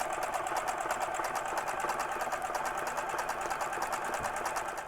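A sewing machine stitches through an Amazon mailing envelope being made into a journal, giving a steady, close, rapid pulse of needle strokes throughout.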